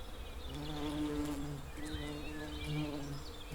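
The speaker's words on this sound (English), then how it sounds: "there's the most incredible hum and buzz of bees" Bees hum and buzz among tulips and flowering herbs in a home garden, a steady droning close by with some individual insects passing.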